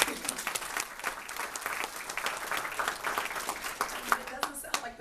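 Panel audience applause at a K-pop fan convention, a moderate spread of individual claps with clear separate hand strikes, some cheering voices mixed in, steady for several seconds.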